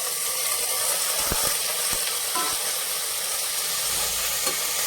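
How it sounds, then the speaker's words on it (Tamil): Onion, curry leaves and tomato sauté in a pan for Chennai-style vadacurry, giving a steady close sizzle with several sharp spoon clicks and scrapes against the pan. "இதெல்லாம் நல்லா மசிஞ்சு வர்ற வரைக்கும் வதக்கிடுவோம்"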